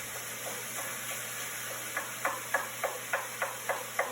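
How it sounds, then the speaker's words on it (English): Ground beef browning in a hot cast iron pan with a steady sizzle, while a wooden spoon chops down on the meat in a series of sharp, regular taps toward the end. "we do want to brown the meat"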